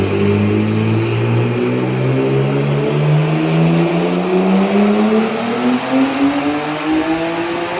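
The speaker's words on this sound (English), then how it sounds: "I'm gonna go ahead and show the dyno clip from 2 nights ago." A single-turbo car engine revs hard on a dyno, a loud, close, continuous roar climbing steadily in pitch over several seconds under full load, with no voices.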